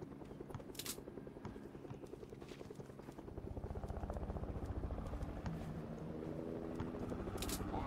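Helicopter rotor chopping in a rapid, steady pulse that grows louder midway, with occasional sharp clicks and game effects over it.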